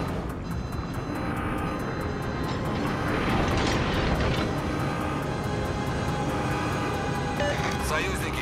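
A loud, sustained roar from aircraft passing overhead during a naval battle game. It swells slightly through the middle and runs under continuous game sound effects, with voices speaking over it.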